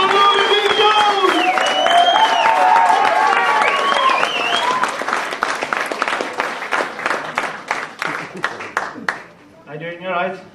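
A stand-up comedy audience claps and cheers loudly as a comedian is brought on stage, the applause swelling to a crescendo before thinning into scattered claps and fading, with voices heard over the crowd.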